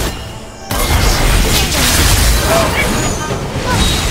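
A deep booming explosion as an enemy turret is destroyed in League of Legends, bursting in loud and sustained after a brief quieter lead-in, with rumbling game effects and crackles continuing throughout.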